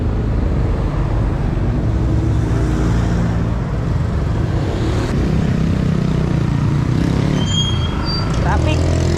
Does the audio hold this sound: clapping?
no